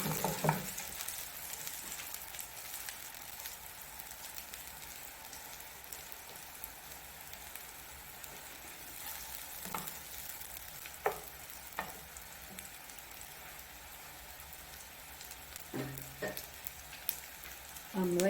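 Potato bites browning in a pan give a steady, fairly quiet sizzle throughout, with a few soft knocks and scrapes as the pan is shaken or stirred, and no talking.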